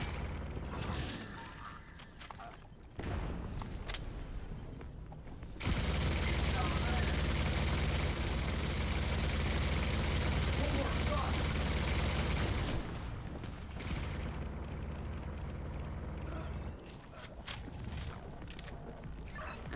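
Gunfire rages in The Division 2, a dense sustained barrage building into a loud continuous stretch through the middle, framed by quieter sporadic shots with voices talking over the combat.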